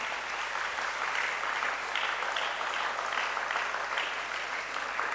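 Audience at a school summer camp closing ceremony clapping strongly, a loud sustained burst of many hands with rhythmic surges running the whole time.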